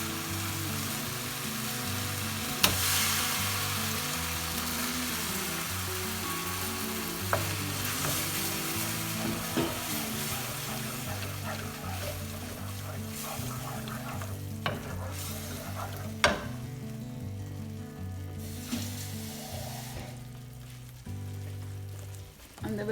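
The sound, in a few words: cooked dal being stirred and fried in a pan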